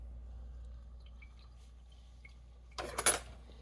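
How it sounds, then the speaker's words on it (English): A spoon knocks against a cooking pot during a home Sunday supper: a short, close cluster of bright metallic clinks at the very end, after a long stretch of near silence. "Let me get a spoon here and taste it and see if it's seasoned enough."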